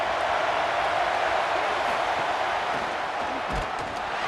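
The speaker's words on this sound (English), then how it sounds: "This crowd knows when to bring it." Stadium crowd noise from a USC vs Notre Dame game in College Football 27, a steady broad roar of fans holding evenly throughout without clear peaks.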